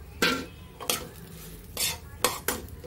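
Metal spoon stirring a mung dal filling with lemon juice and salt in a bowl, several sharp scraping clinks in an irregular rhythm, close and fairly quiet.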